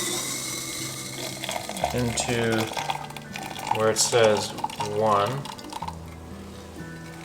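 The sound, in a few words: hot water poured into AeroPress coffee maker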